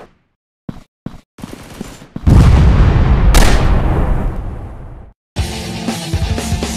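Grenade blast and gunfire in the Critical Cover Hunter Ops mobile shooter game: a few sharp shots, then a loud sustained explosive roar lasting several seconds, a brief gap, and renewed heavy firing.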